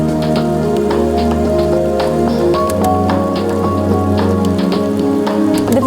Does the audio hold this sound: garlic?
no